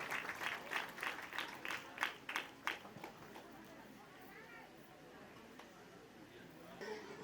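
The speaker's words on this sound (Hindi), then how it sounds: "जोरदार तालियां हमारे नेताओं जी के लिए।" Loud applause for the leaders at a village tribal day celebration, a series of strong rhythmic clapping bursts in the first few seconds that then thin into a murmuring crowd with voices.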